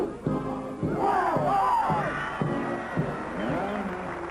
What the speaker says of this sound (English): Good crowd assembling here at Cougar Park.